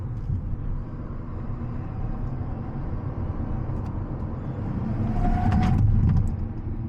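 A 2024 Fiat 500e electric car driving during a brake test, steady road and tire rumble from inside the cabin that swells toward the end with a faint brief squeal.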